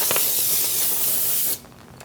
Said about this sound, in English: Give it one more spray.